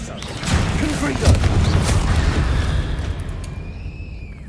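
The Confringo blasting spell cast in Hogwarts Legacy lands as a loud, booming blast that rumbles and fades over a few seconds, with a faint whistling tail at the end.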